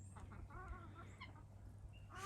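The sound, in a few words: chicken clucking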